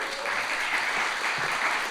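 An audience at a motivational seminar gives a brief burst of steady clapping.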